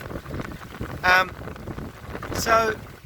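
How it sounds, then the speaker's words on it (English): Wind gusting steadily across a small sailboat cruising on open water, a constant rushing buffet with louder bursts, heard beneath a voice. "this moderate gust that we're in now is holding a fairly straight course"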